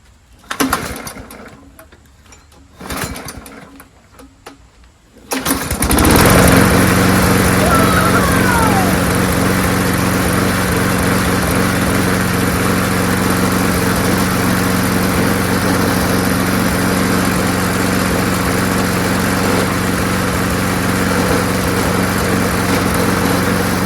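A Craftsman self-propelled lawn mower with a Briggs Quantum auto-choke engine starts after a couple of brief pulls and then runs steadily at a loud, even drone, close by with no talking.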